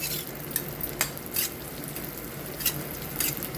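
Raisins sautéing in a pan, a steady sizzle with several light scraping strokes of a spoon stirring them, close and continuous with no talking.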